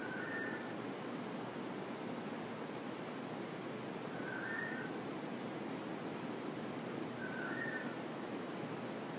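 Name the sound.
birds singing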